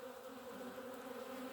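Bees in a wintering hive in Wisconsin give off a steady, low, even buzz, faint and continuous throughout.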